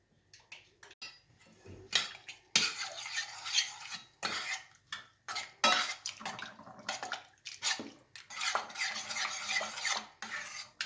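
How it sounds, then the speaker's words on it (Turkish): Kısır salad ingredients stirred in a bowl with a spoon produce irregular scraping clinks and soft wet mixing sounds, close up, in uneven bursts with short pauses. "karıştıralım şimdi"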